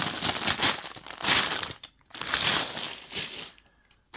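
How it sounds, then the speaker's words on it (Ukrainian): A LEGO Icons Orchid 10311 set's numbered plastic parts bag is torn open and crinkled, loud crackling bursts of plastic handling in several waves with brief pauses, no talk. "Потім перед нами відкривається пакет номер 1"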